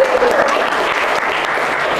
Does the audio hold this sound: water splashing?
no